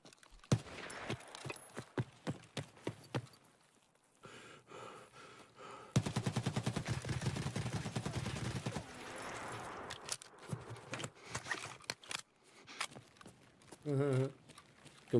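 Gunfire in Escape from Tarkov, a burst of dense, loud shots in the middle of the stretch with sharper isolated cracks before and after, mixed under voices talking.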